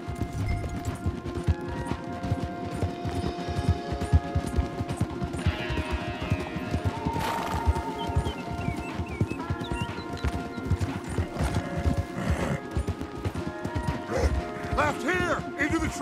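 Horses galloping hard along a path in the video game Red Dead Redemption 2, steady clip-clop hooves with an occasional whinny, loud and continuous under game music and talk.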